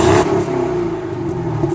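Stock exhaust on a 2015 Camaro V8 revs steadily, a sharp rise at the start settling into a sustained, fairly quiet engine drone with no talking.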